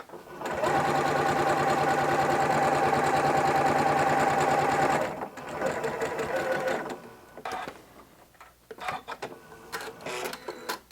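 A sewing machine runs steadily at close range, stitching jelly roll quilt strips together for about five seconds before stopping, followed by quieter handling noises and brief rustles.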